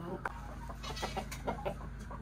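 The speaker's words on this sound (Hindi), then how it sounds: "रिजवान साहब जी मुर्गा आ गया, मुर्गी भी आ गई, दूसरी मुर्गी भी आ गई" White Shamo chickens clucking nearby, a rooster and hens making a run of short, soft calls over low steady background noise.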